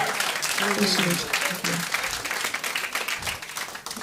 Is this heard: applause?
yes